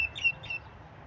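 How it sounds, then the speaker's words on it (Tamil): A myna gives a few short, bright calls in quick succession, fairly faint against a low background hum in a garden in Medina, Saudi Arabia, then the calls fade out. "மைனா கத்துது"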